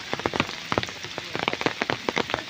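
Rain falls on a village during a heavy monsoon storm, heard close as scattered, irregular drops and splats striking a surface over a soft background hiss.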